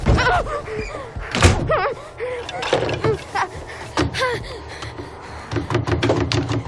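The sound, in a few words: banging on a door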